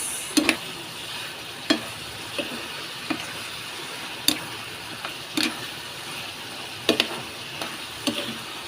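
Chicken liver adobo simmers and bubbles in a pan, with a soft steady sizzle broken by scattered sharp clicks and pops.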